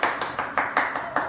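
Audience clapping in unison on a Hindi debate show, seven sharp even claps in quick succession, moderately close and alone.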